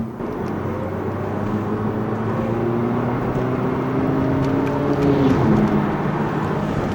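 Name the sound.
small German sports car engine in sport mode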